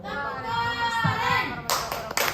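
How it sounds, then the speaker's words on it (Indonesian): Group clapping in rhythm to a school clap chant in an Indonesian classroom, sharp claps bunched near the end after a sustained tone of voices chanting together. "Tepuk satu, tepuk dua, tepuk satu."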